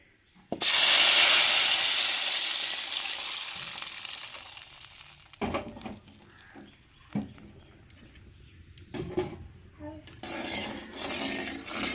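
Curry leaves and tamarind drop into hot oil in a pan for rasam and burst into a loud, bright sizzle that slowly fades. Stirring clatter and scattered talk follow.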